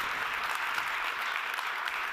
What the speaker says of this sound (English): Give it up, a warm applause, everyone at home,